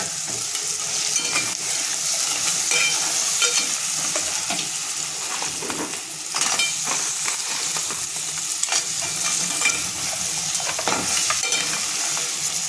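Fish pieces frying with masala sizzle in a pan, with continuous stirring and scraping throughout and no voices.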